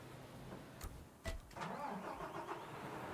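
A truck engine in Construction Simulator cranks and catches, with short starter bursts followed by a steady mid-pitched idle that settles in. It sits close and moderately loud, and nobody talks.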